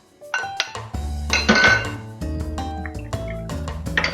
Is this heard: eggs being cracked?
yes